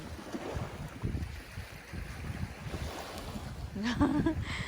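Ocean waves wash on a beach at Hua Hin under steady wind buffeting the microphone, a low, continuous rumbling surf with no talking, and a brief high cat-like cry toward the end.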